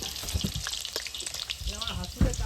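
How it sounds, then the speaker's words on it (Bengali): Potatoes fry in a pan at an outdoor riverside picnic in the Sundarbans, a steady loud sizzle with occasional stirring knocks and brief bursts of crackle. "প্রথমে আলু ভাজা শুরু করলাম।"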